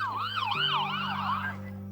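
An ambulance siren wails in a continuous rising and falling sweep, loud and fairly close, over a steady low tone, with no talking.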